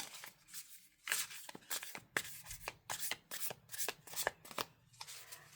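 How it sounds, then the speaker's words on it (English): A Sacred Witch Tarot deck by Wyspell being overhand shuffled: close, crisp riffling bursts of cards sliding past each other in a quick, uneven rhythm, with no talking. "Overhand shuffle."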